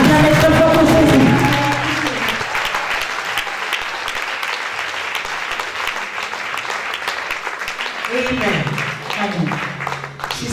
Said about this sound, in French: Put your hands together, beautiful people. Acclamez très fort pour Jésus.